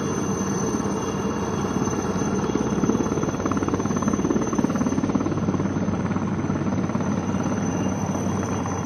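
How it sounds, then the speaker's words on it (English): A naval helicopter drones steadily at a distance during a display of spot turns, its rotor beat pulsing under a continuous engine whine with no one speaking. "the helicopters carried out spot turns, quickly changing their direction 360 degrees twice."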